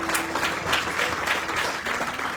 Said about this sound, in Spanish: Denle un aplauso al Señor, amado hermano